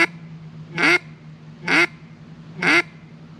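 Three evenly spaced, nasal quacks are blown on a hand-held duck call, each short and loud, with a low steady hum in between and no talking.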